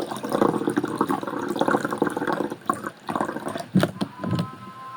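Coconut water pours and splashes steadily, a wet gurgling stream with a few sharper splashes and drips near the end, no voices.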